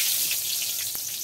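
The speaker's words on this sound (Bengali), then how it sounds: "তেল গরম হয়েছে, ফোড়নে দিয়ে দিচ্ছি দুটো শুকনো লঙ্কা ফাটিয়ে নিলাম" Dry red chillies splutter in hot oil as a tempering, giving a steady close sizzling hiss with one sharp crackle near the end; no talking.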